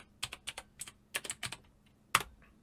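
Fingers tapping keys on a computer keyboard in a Windows 10 search box, a short quiet burst of clicky keystrokes in an uneven rhythm ending with one firmer press, no talking.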